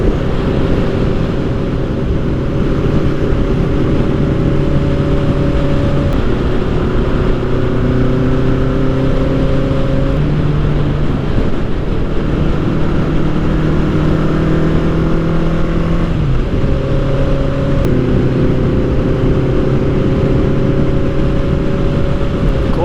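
A Honda Nighthawk motorcycle cruising at highway speed on the 10 freeway, its engine droning steadily and loudly with shifting tones as revs rise and fall, wrapped in constant wind roar throughout.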